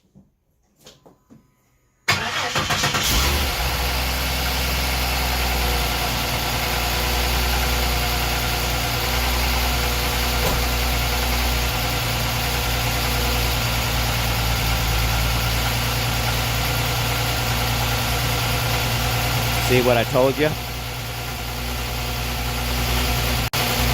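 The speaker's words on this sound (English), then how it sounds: "So I'm going to go ahead and fire it off, and we're going to start this dude up" A large engine, likened to a diesel truck's, cranks and catches after a moment of quiet, then settles into a loud, steady, rumbling idle with a knocking throb and a brief surge partway through; someone speaks briefly before startup.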